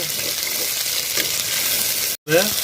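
Steady sizzling and crackling of onions sautéing in a pan for sambar, close up, with a short break near the end before the hiss resumes.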